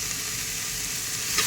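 Turmeric powder being sautéed in a pan gives a steady, close, continuous sizzle with faint stirring scrapes, no voices.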